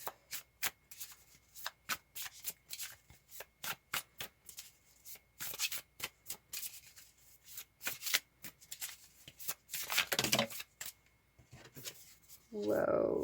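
Starseed Oracle cards being shuffled by hand in quick repeated bursts of riffling and slapping, close and crisp, with brief pauses between bursts and a louder rustle near the end.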